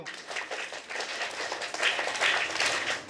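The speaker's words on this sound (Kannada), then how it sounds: "once again claps go" Schoolchildren at a government primary school opening celebration clap together in a dense, continuous patter of many small hands, moderately loud and swelling slightly toward the end.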